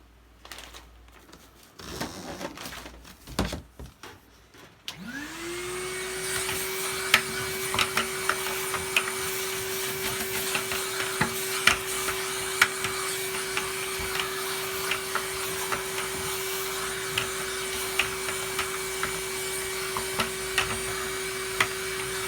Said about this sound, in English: Let's vacuum it up.